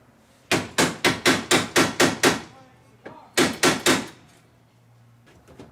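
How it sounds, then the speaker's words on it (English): A hammer strikes a stuck metal part on a 1990 Mazda Miata in two quick bursts of loud, sharp whacks, seven in a row, then a pause and four more, with a faint murmur between. "I'm gonna whack it with a hammer"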